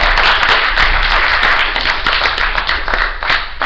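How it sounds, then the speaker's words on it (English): Conference audience applauding after remarks by Adrian College's president: a sustained, fairly loud stretch of many hands clapping, dense and even with a few sharper nearby claps standing out. "Big round of applause."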